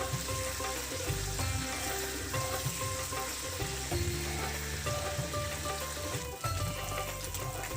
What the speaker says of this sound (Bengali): এবার কই মাছগুলো বেশ কিছুক্ষণ ধরে উল্টে পাল্টে ভালো করে ভেজে নিতে হবে।